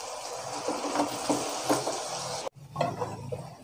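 Mutton pieces stirred with ground masala in a pot, giving a steady sizzling scrape with a few soft clinks of the spoon, a brief pause near the end, then more stirring.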